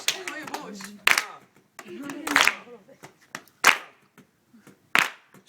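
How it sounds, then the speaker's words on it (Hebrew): A small group claps hands to cheer, bursts of sharp claps spaced about a second apart, mixed with people talking and a voice between them. "יאללה חבר'ה, קצת כפיים, בוא נעודד אותם"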